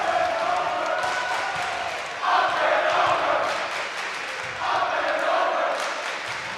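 A crowd cheering at a high school girls' volleyball match between Needham and Attleboro, heard as a loud, steady roar with two swelling bursts of shouting.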